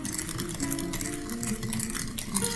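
Sugar is stirred in a bowl with a utensil, giving soft continuous scraping and faint clinks against the bowl, close up and quiet.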